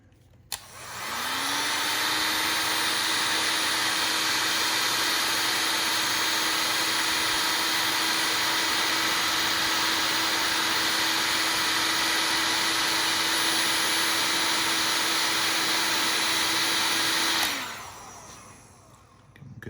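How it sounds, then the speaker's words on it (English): A heat gun shrinking glue-lined heat-shrink tubing on a sonic screwdriver prop: the motor spins up, then a loud, steady roaring airflow with a fixed whine holds for about sixteen seconds before cutting off and fading. "heat gun."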